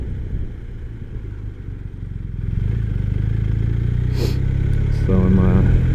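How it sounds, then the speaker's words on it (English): A 2020 BMW R 1250 RS motorcycle on the road, its engine droning steadily and building louder as it accelerates, with wind rush and a brief clatter near the end. "So I'm riding my BMW R1250 RS"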